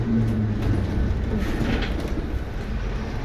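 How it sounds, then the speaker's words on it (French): A Mercedes-Benz Citaro C2 city bus brakes for a long stretch at a depot annex, a steady loud rumble with low engine drone and faint squealing tones running throughout, no voices. "T'as ce freinage comme il est long ma parole"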